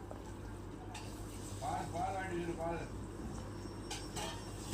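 Eggs frying in hot oil for an egg roast masala, a steady soft sizzle and hiss running throughout while a voice talks over it midway.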